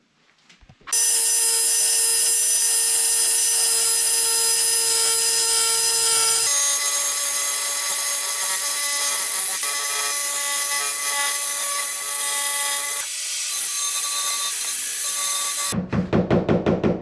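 Tile cutting for a first tiled wall, a loud continuous whining cut that holds steady for over ten seconds with shifts in pitch, then stops and gives way to a brief different sound at the end.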